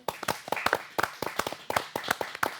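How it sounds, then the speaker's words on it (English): A studio audience gives a round of applause: sharp, uneven hand claps from a small group, loud and close, coming in quick bursts for a few seconds. "I want a round of applause"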